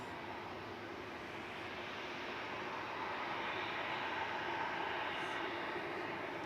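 An EasyJet airliner landing at Manchester Airport gives a faint, distant, steady engine rumble that swells slightly toward the end, with no voices over it.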